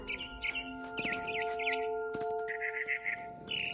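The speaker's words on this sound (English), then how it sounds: "I heard chirping outside my window. It was a barn swallow going back to her nest." A barn swallow outside a window gives quick, bright chirps and twittering calls in short bursts, fairly faint and close, with a faint steady hum underneath.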